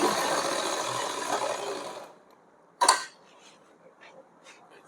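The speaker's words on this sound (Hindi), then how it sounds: "इसको यहीं पर इस तरीके से पलट करके इस तरीके से सिलाई लगाती हूँ।" Sewing machine stitching fabric for a Laddu Gopal outfit, a continuous close mechanical whir for about two seconds that stops, followed by a single sharp click and a few faint handling sounds.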